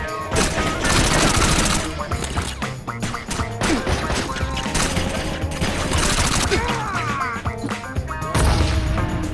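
Dense, sustained gunfire in the open-world game Gangstar Vegas, rapid bursts and loud shots with crashes and impacts stacked over busy game music, continuous and close for the whole stretch.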